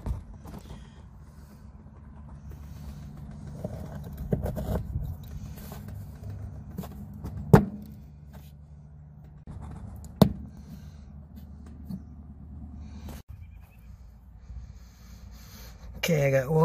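Backup parking sensors are pressed into the rear bumper cover of a 2005-2011 Cadillac STS, with two sharp plastic clicks standing out above quiet handling rustle and faint background noise.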